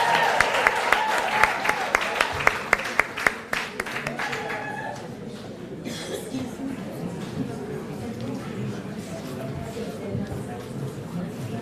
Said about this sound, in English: let's give all of you another round of applause for completing